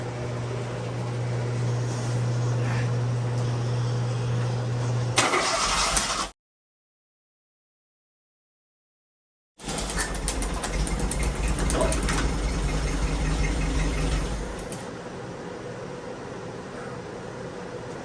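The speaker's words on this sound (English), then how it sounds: "Start up the car and it was just vibrating" A Fiat 1100D car engine starts and idles roughly after a loose battery cable is fixed; a steady low engine drone runs, cuts out to silence for a few seconds, then returns louder and rougher before easing to a lower idle.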